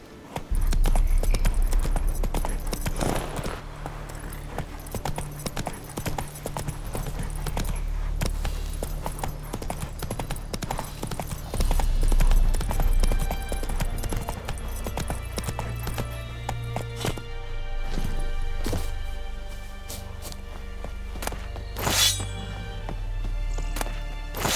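Horse hooves in The Witcher 3 clip-clopping steadily at a run across the whole stretch, mixed with in-game ambience, a brief whinny and jingling tack, fairly close.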